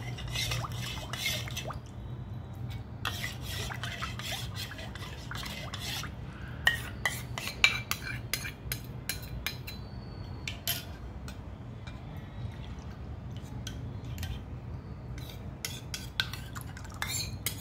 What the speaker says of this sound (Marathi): आपण इथे डाळीचं पीठ मिक्स करून घेतलंय, ते आपण याच्यामध्ये मिक्स करून घेऊ।